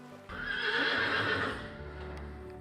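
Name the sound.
horse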